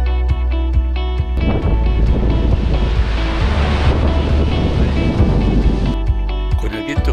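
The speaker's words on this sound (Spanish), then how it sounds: "Con el viento que hace es casi imposible hablar con el micro." Heavy wind buffets the microphone on the sea cliffs of Peniche, a loud continuous low roar with ocean surf churning beneath it and no speech.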